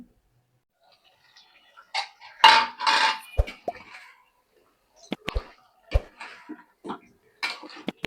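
A pot being covered with a lid while chicken curry with potato and pointed gourd cooks, heard as several sharp metallic clanks and knocks scattered among quieter clattering, fairly close, with no talking.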